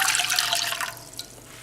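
Two cups of water pour into a cooking pot in one steady splashing stream that runs briefly and then tapers off.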